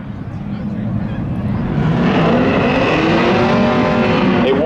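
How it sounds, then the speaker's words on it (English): Drag race cars warm up their tires at a speedway, engines revving up and building into a loud, sustained roar with rising tones over a couple of seconds. A commentator talks over the sound. "They warm up the tires there just outside of turn number 4."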